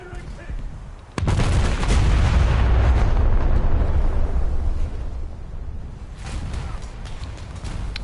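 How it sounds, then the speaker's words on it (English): Torpedoes launch in the War Thunder naval combat game, a sharp onset at about a second giving way to a loud, sustained rushing roar that slowly eases, with a second burst near the end. "I am literally just firing off torpedoes"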